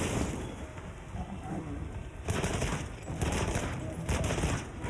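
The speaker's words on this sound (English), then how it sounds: "Try to get some cheeky bullets off here." In the video game Monster Hunter Wilds, a Light Bowgun fires rapid bursts of bullets. Dense, crackling volleys run throughout and grow louder and sharper after the midpoint.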